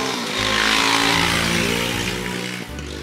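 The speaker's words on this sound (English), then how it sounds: "There is so many scooters." Motor scooters pass close by on a street in Florence, Italy, their engines buzzing loudly and steadily for a few seconds, rising and falling as they go by, with no voices heard.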